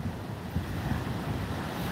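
Strong wind roars across the microphone over steady ocean surf during Tropical Storm Eta on the Florida coast, a continuous loud rumble with no pauses and no voices.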